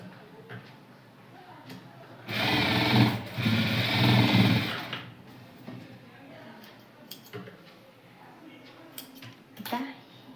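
A sewing machine stitches a baby frock in one loud, steady run of about three seconds, rising sharply and then stopping. Before and after it there are quieter handling noises and faint background sounds.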